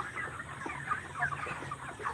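Clucking from young chickens about twenty-three days old, soft repeated calls scattered across a quiet background, fairly close and steady throughout.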